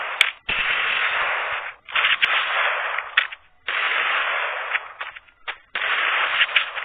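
Repeated bursts of gunfire from a shooting video game, loud and close, arriving in long sustained volleys of roughly a second each with short gaps between them and no talking.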